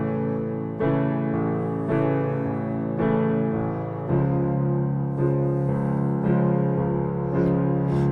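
Piano plays the verse chords of a song in a fuller eighth-note pattern shared between the hands, steady sustained chords changing every few beats, close and clear with no voices.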